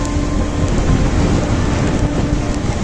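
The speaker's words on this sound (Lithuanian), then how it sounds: "Pila kaip iš kibiro." Heavy rain pours down during a winter storm in Spain, a dense, steady roar with constant low rumble and no pauses.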